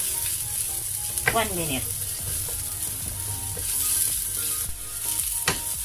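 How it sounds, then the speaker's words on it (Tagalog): Onions sautéing in a little oil in a pan for a tuna pie filling: a steady, close sizzle and crackle throughout, with a couple of brief stirring clinks and scrapes against the pan. "So, gigisahin lang natin itong sibuyas"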